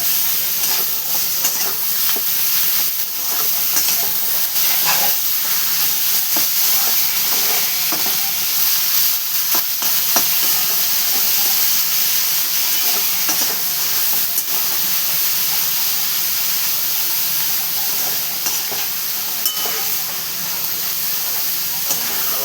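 Dried small shrimp (jawla) fry in a hot pan for a Marathi-style dry shrimp chutney, giving off a steady, loud, unbroken sizzle and hiss with no pauses.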